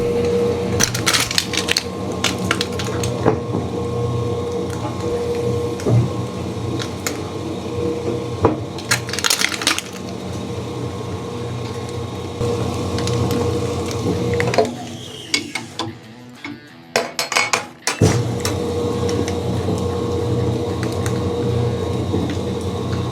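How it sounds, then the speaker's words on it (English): Meat grinder fitted with a 1/4 inch plate working through half-frozen meat for backyard sausage, a steady mechanical grinding drone with knocks and creaks that runs nearly the whole time, briefly dropping away near the end before resuming. "So now we're gonna grind it up. I'm using a 1/4 inch grinder plate."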